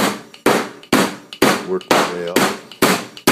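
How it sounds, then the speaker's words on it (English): A meat tenderizing hammer pounding eye of round steak in a kitchen, seven sharp, evenly spaced thuds close by, with someone speaking briefly between blows. "what I've been doing is I've been using this tenderizing hammer"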